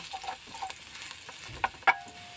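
Garlic frying in a very hot pan, a soft steady sizzle close by with a few sharp clinks of a utensil stirring against the metal.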